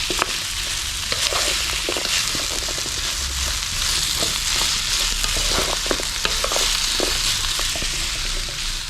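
Steady, close sizzling of stir-fry vegetables frying in a pan, with crackles and occasional sharp pops and scrapes throughout.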